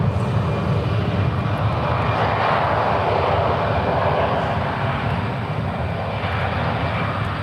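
A 23-year-old United Boeing 777-200, originally flown by Continental, departs San Francisco for London Heathrow, its engines a loud, steady broadband roar that holds without a break from start to finish.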